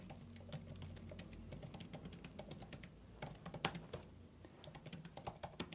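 Quiet, close typing on a computer keyboard with rapid irregular key clicks and short bursts, no voices present.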